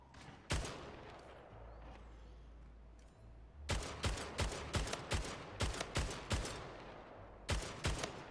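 Rapid gunfire from the video game Splitgate: a single sharp shot, a pause over low rumble, then a quick regular burst of about ten loud shots with a final couple of rounds.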